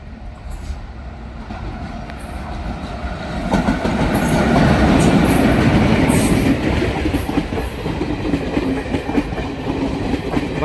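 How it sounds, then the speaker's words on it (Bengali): The Bhagalpur–Azimganj passenger train, hauled by a Howrah-based F4 locomotive, passes Azimganj cabin. A loud, close rumble swells after a few seconds and holds, with rail clatter and faint wheel squeal above it. "ভাগলপুর আজিমগঞ্জ প্যাসেঞ্জার হাওড়ার F4 লোকোমোটিভ নিয়ে আজিমগঞ্জ কেবিন পার করে"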